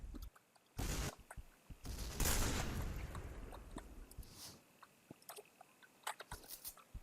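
Gunfire in a first-person shooter game mode, a few loud bursts of shots early followed by scattered fainter clicks and pops, no talk.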